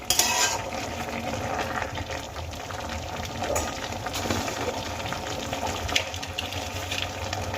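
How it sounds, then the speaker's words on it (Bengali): Raw green tomatoes frying in a pan, a steady close sizzle with occasional scrapes and stirring clinks of a utensil against the pan, no talking. "আমি ভালো করে দেখো ভেজে নিয়েছি আর কাঁচা টমেটোর থেকে জল ছাড়তে শুরু করে দিয়েছে"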